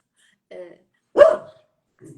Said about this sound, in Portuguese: Acho que ele está querendo sair, ele está latindo.